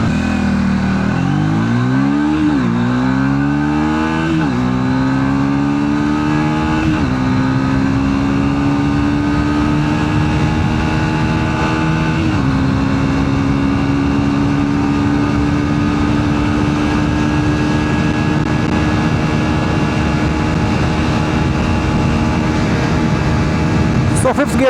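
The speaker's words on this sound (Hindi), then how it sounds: "फिफ्थ गियर में बाइक इजीली 140 to 150 की स्पीड अचीव कर लेती है" Triumph Speed 400 349cc motorcycle accelerating hard in fifth gear, engine note repeatedly rising then settling into a loud sustained high-speed drone with wind noise, close to the rider.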